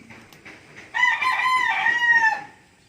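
A Filipino fighting rooster crows once, loud and close, with a long drawn-out call over faint background noise.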